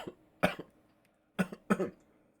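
Three sharp, nearby coughs, one then a pair after a pause, with quiet room tone between them.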